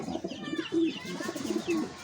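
Pigeons coo softly and repeatedly in a loft, with a few low rolling calls close by against a quiet background.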